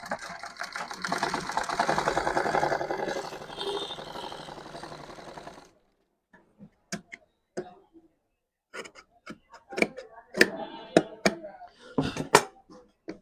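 A sewing machine runs in one steady stitching burst for about five seconds while a trouser pocket is sewn, then stops; afterward come scattered light clicks and handling noises of fabric and tools, fairly close.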